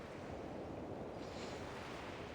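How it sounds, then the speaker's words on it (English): Waves crash against a rocky shore in the video game Reverse 1999, a steady, dense surf roar with a slight surge midway, close and loud throughout with no voices. "The crashing of waves in the rocky shore does its best to drown out little whimpers below."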